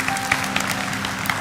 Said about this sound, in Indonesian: Kasih tepuk tangan untuk Tuhan juga